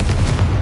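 A Confringo fire spell detonates in Hogwarts Legacy, a short dense blast with heavy low-end rumble filling the whole moment, loud and close with no talk over it.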